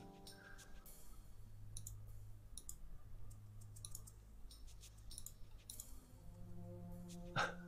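Computer mouse clicking while playing the 1993 Microprose DOS game Bloodnet, sharp isolated clicks scattered through the clip over a low steady game music drone, with one louder click near the end.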